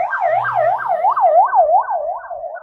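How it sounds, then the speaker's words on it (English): An ambulance siren wails on a road near a hospital, a loud, steady rising and falling yelp repeating about every quarter second as the vehicle passes close by. "There's an ambulance coming down the road."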